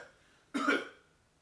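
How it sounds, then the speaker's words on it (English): A single short, sharp cough, fairly close, following a moment of near silence. "Right after you stop smoking, now you start coughing."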